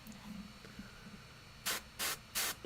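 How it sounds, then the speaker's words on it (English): Three short bursts of spray paint, a yellowish coat misted over a silver miniature, each hiss lasting about a quarter second with brief gaps, close and fairly loud over a faint low room hum. "I'm spraying kind of a yellowy color on top of silver, and it's giving me a nice gold color."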